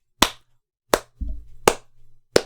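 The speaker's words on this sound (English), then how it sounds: "Let me clap for you" Slow, sarcastic hand claps, four sharp separate smacks about three quarters of a second apart, close and loud, with a short low thump between the second and third clap.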